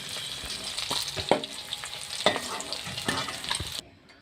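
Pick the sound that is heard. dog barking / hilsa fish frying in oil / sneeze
hilsa fish frying in oil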